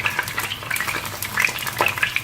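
Potato fritters sizzle and crackle in hot oil during a French home-cooking demonstration, with a steady, close bubbling hiss and scattered spitting pops and no talking.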